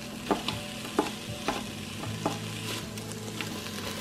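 Onions sauté in a pan while a utensil breaks them apart, a steady sizzle punctuated by about eight sharp, regular scraping knocks, close by and with no talking.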